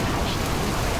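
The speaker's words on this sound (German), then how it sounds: "Und es regnet in Strömen." Heavy rain in Middle-earth: Shadow of Mordor pours as a steady, dense hiss of broadband noise, loud and even throughout a short stretch with no other sounds standing out.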